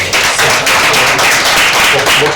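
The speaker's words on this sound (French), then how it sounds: "Ça s'applaudit s'il vous plaît" Dense applause from a studio audience on a TV show set fills the whole stretch, loud and steady, with faint voices mixed in.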